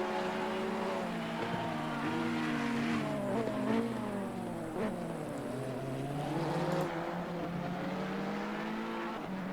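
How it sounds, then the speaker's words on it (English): Race cars lapping a racetrack through a chicane in a racing video game, engines droning with rising and falling pitch as they accelerate and brake, loud and continuous with no voices. "Oh, Kolyev getting really untidy on that exit of that chicane, probably dropping back about a second there"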